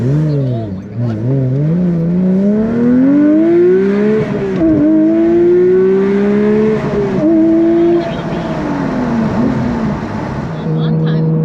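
Porsche 992 GT3 engine fitted with a new exhaust, revving up through rising and falling pitch sweeps, loud and close, with cabin chatter over it.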